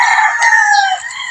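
Chickens in a coop at Mount Banahaw in the Philippines: a rooster's loud close crow rises and falls, with faint clucking around it.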